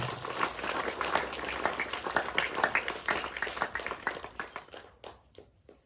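Children at an elementary school ceremony marking Indonesia's independence anniversary receive a crowd's dense, sustained clapping, which thins into scattered individual claps and trails off near the end.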